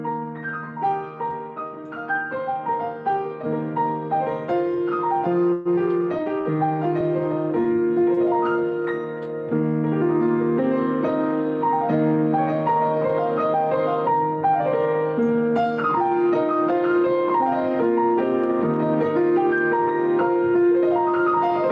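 Solo piano playing a delicately ornamented passage from Xian Xinghai's Yellow River Concerto, with continuous flowing notes and rapid decorative runs that mimic plucked strings.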